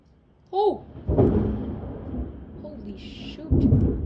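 Thunder from a lightning storm rolls in a long low rumble after a brief high call, with a second louder crack swelling near the end.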